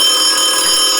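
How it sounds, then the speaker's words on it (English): A steady, mysterious ringing tone from an audiobook scene, holding high and unbroken for about a second with no voice over it. "There it is! The ringing!"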